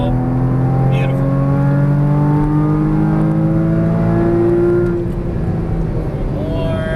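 A Porsche Cayman GTS engine pulls hard under acceleration, a loud, steady drone rising in pitch for several seconds before easing off, close up inside the car.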